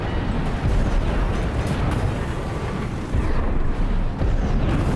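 Armored Core VI gameplay carries a sustained, dense explosive roar as a target is destroyed, loud and continuous with brief dips, heavy low rumble and no speech.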